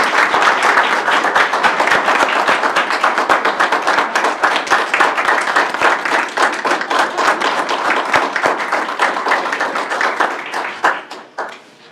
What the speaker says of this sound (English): why don't we have a round of applause for Mr. Phillis and for public education.